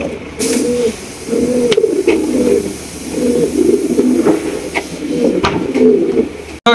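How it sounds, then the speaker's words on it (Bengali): A pair of Gola pigeons coo close by in repeated, rolling phrases that run almost without pause, with no talking. "দেখেন কত সুন্দর এক জোড়া গররা কবুতর"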